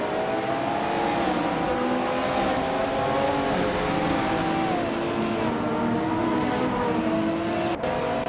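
Race cars in a racing video game, among them a 1986 Ferrari 308 GTS, drone steadily with rising and falling engine pitch as they shift and accelerate, loud and continuous, with cars passing close by.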